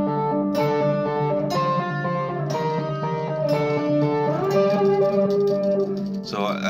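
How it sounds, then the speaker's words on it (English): An electric guitar runs through a Pitchfork+ octave pedal controlled by an expression ramper, ringing out a series of sustained, harmonically rich chords and notes with shifting pitch layers, clear and close, ending on a brief bright burst. "So I was kind of creating this octave effect."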